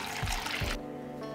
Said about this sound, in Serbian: U šerpu ću sipati vodu do visine poklopca.